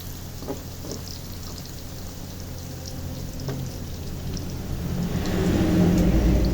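Ingredients fry in oil in a pan for a homemade gourmet-style topping, a steady crackling hiss that grows louder and fuller toward the end, with faint stirring and no talk.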